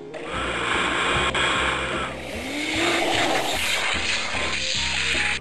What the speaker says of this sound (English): I love the vacuum cleaner.